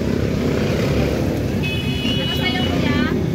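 Heavy road traffic rumbles steadily close by around a Lancer EX 2.0, with passing engines, tonal whines and faint horn-like tones, while people talk over the noise.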